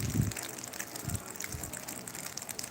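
A small river flowing where a drained mill pond once stood, a soft steady gush and trickle of water, faint and fairly distant, with a few low thumps early on.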